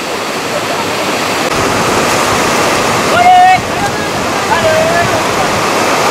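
Constant rushing of a flowing river fills the clip, loud and near, with brief faint voices or squeaks partway through.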